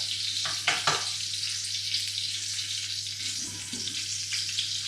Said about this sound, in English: my roast is browning up